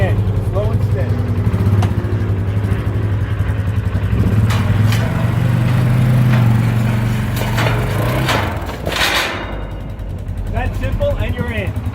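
ATV or UTV engine running in all-wheel drive low while the vehicle is eased off a trailer, a steady close engine drone that dips briefly near the end, with someone talking over it.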